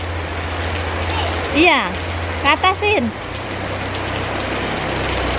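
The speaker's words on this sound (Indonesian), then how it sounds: "Hujannya deras banget loh." Heavy rain pours down on a rainy-season morning in Indonesia, a steady hiss running throughout while a person speaks briefly and a high whistling or sliding tone rises over the rain.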